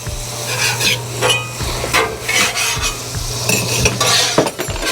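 Snakehead fish fries in butter on a Blackstone griddle with a steady sizzle. A metal spatula scrapes and taps against the flat top again and again, loud and close, with no talking.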